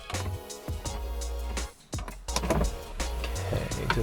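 An Audi TT Mk1 passenger-side electric window runs its motor with a steady close whine, pausing briefly midway before moving again, with small clicks and no talking.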